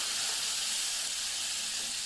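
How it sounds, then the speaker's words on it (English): Tinned tomatoes and water hit a hot curry pan, giving a loud, close, continuous steamy sizzle and hiss that holds steady for a couple of seconds with no talking. "oh, listen to the sizzle"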